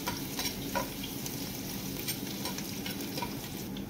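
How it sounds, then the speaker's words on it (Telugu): Chopped garlic and ginger frying in a pan with cardamom for dal khichdi, giving a steady, quiet sizzle broken by light scraping strokes as the pieces are stirred. "తరిగిన ఎల్లిపాయ ముక్కలు, తరిగిన అల్లం ముక్కలు వేసేసి ఒక 1 మినిట్ ఫ్రై చేసుకొని"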